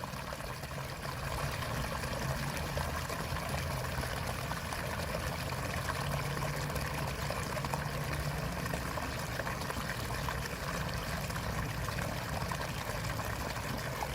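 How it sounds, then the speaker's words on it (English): Storm water from a Florida tropical storm pours steadily into a Super Sump four-way yard drain catch basin, a continuous loud rushing and gurgling flow that holds at an even level throughout, with no talking over it. "we're moving water. We are moving a lot of water. It's been running like this now for hours, really."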